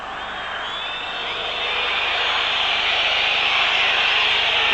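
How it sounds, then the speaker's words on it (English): Large football stadium crowd at a 1976 Hungary versus Wales European Championship qualifier, a sustained broad roar of disapproval that swells steadily louder and stays dense throughout, with no commentary over it. "The crowd doesn't like the back pass"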